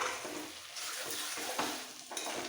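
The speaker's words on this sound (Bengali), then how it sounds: "দই দেওয়ার পরও আরো দু মিনিট একটু নাড়াচাড়া দিয়ে নিতে হবে" Potato curry with yogurt stirred in a hot pan for alur dam, soft scraping strokes over a quiet continuous sizzle, faint and close, with no talking.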